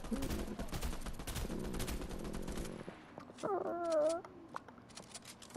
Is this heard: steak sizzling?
no